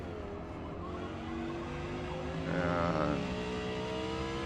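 An Audi R8 LMS race car in Forza Motorsport's R class at Daytona Speedway produces a continuous engine drone whose pitch climbs and swells on a qualifying lap, with almost no talk.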